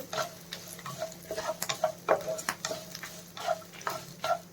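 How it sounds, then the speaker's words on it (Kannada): Onions frying toward golden brown in a pan for an Andhra-style onion chutney, a soft sizzle with repeated light stirring clicks and taps from the utensil against the pan. "ಗೋಲ್ಡನ್ ಬ್ರೌನ್ ಕಲರ್ ಬರೋ ತನಕ ಚೆನ್ನಾಗಿ ಫ್ರೈ ಮಾಡ್ಕೋಬೇಕು"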